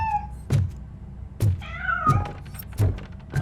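A cat meows several times in Robocop: Rogue City, a string of short, fairly loud cries spaced about a second apart, with a dull thump under each one and no talk.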